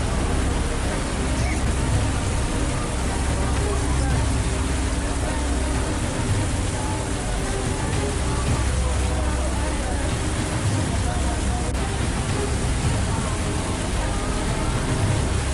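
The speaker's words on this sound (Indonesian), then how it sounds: "Beginilah kondisi hujan deras disertai angin kencang di wilayah Bangkalan" Heavy rain driven by strong wind in Bangkalan, Indonesia, forms a dense, loud, unbroken roar that fills the whole stretch without pause.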